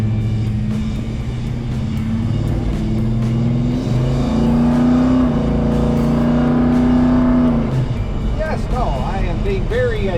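A 1971 Ford Torino Cobra pulls away gently, its engine rumbling low and steady, the pitch rising slowly as it builds speed before fading after several seconds; speech is faintly present.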